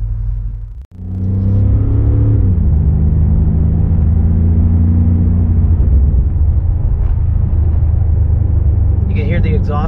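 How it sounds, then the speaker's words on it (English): A 2021 BMW M5 accelerating, its loud, close engine rumble rising in pitch and then holding a steady drone from inside the cabin, with no distinct crackle picked out. "You can hear the exhaust crackle back there"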